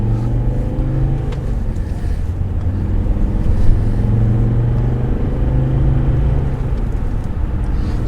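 Steady low rumble of a car cruising and gradually accelerating on the A2 dual carriageway, engine and road noise heard from inside the cabin with no voices.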